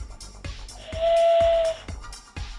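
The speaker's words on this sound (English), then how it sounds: "right, so it whistles" A small whistle sculpted in someone's likeness and blown through the nose gives one steady, clear tone lasting under a second, close and fairly loud, with soft breathy hiss around it.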